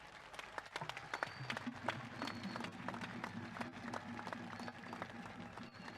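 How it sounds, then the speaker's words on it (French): Sustained applause from a crowd at a Ngondo traditional festival ceremony in Cameroon, dense clapping running throughout with a murmur of voices and music underneath. "je sollicite des salves d'applaudissements nourris"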